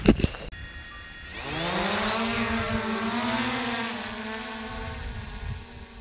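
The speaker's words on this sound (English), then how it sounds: "I'm going to launch the drone" A small drone spins up after a click and lifts off outdoors, its steady high-pitched rotor whine rising then holding, fairly close, with no talk over it.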